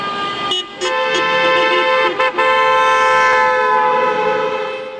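Car horns blare on the A4 motorway near Ermesinde during a protest against reinstated tolls, with many horns sounding at once in a loud, sustained chorus of overlapping tones broken by a few short dips.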